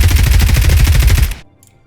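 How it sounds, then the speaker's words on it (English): A standard M4 rifle firing full auto in Escape from Tarkov: a loud, fast, evenly spaced burst of about eighteen shots that cuts off abruptly, followed by a faint metallic clink. "Now we're going to give you a standard M4, we'll shoot that just to the side. Put it in full auto that way."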